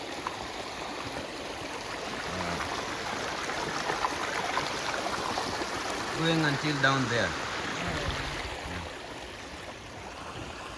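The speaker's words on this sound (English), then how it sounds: "You can hear the beautiful sound of Water." Water flowing steadily in a small river in north Kajiado, Kenya, a continuous close rushing wash, with people talking over it partway through.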